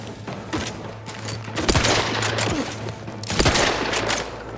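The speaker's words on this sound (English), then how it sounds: "I do not like this gun. But it is doing more damage, which is good." Gunfire in The Outer Worlds 2: repeated rapid bursts of automatic shots with sharp cracks and booming surges, loud and close, with a steady low hum underneath.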